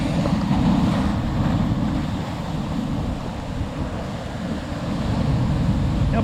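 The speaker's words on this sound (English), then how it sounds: "Wait, this wave." Ocean surf rolls and washes against a rocky point on the coast, a loud, steady roar of breaking water with wind buffeting the microphone and no speech.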